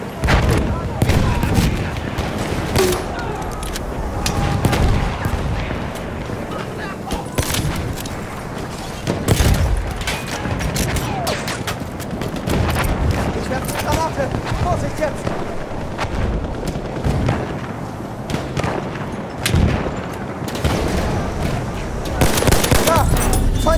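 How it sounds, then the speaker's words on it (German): Sustained machine gun fire in the video game Battlefield 1 during the Amiens operation, loud and continuous with booming explosions mixed in and occasional shouted voices. "Maschinengewehr!"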